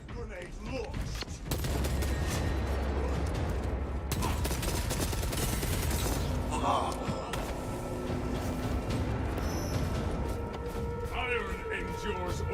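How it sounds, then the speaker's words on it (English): Frag grenade launch and gunfire in a Warhammer-style warband video game, a dense barrage of loud crackling shots and booms running throughout, with game voices and effects layered over the continuous battle noise. "Frag grenade launched."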